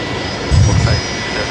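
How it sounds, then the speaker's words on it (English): A Fokker aircraft taxis into a bay at Brisbane Airport, a loud, continuous engine roar with a brief low-frequency swell in the middle, heard close up. "we got a Fokker coming into Bay 49 right in front of me, making a bit of a racket there"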